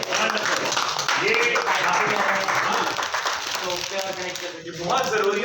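An audience applauds at a product presentation, with sustained, dense clapping and voices talking over it throughout.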